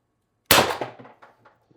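A single sharp shot from a TR50 Torpedo CO2 airgun with a tuned barrel firing a 12.7mm ball bearing, a loud close crack followed by short decaying echoes and rattles.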